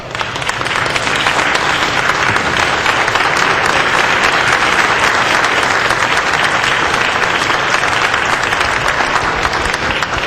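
Sustained applause from legislators on a state house floor, honoring staff; dense, loud, steady clapping fills the room for about ten seconds with no talk over it.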